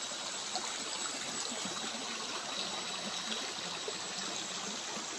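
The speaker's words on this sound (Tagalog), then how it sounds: "Nakita niyo po, ganda ng lagaslas ng tubig." River water rushing steadily over stones, a continuous broadband hiss and gurgle heard close and unbroken, with no voices.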